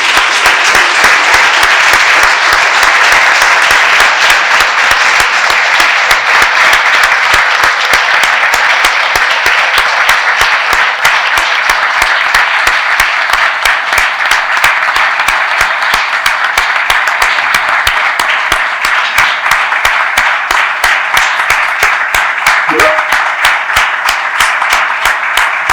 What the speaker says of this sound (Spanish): que le dediquemos un emocionado aplauso a don Sergio García.